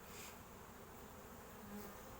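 Steady, dense buzzing of many honeybees close by around an open hive, a continuous drone without pauses.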